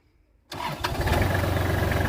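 A Kubota GL-23 mini tractor's engine cranks and catches after a short silence, then settles into a steady, close, rumbling idle.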